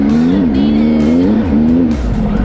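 An off-road motorcycle engine revving hard during a trail ride, a loud, close buzzing drone that rises and dips in pitch as the throttle opens, with rough wind and terrain noise underneath.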